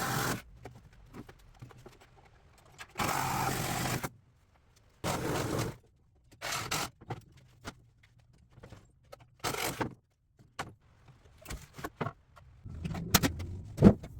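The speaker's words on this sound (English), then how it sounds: "the recip saw was the way to go for the demo" Reciprocating saw tearing apart an old workbench built with framing nails, heard as several loud bursts of sawing separated by quieter gaps of handling and knocking.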